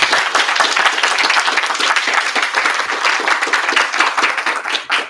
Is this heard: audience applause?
yes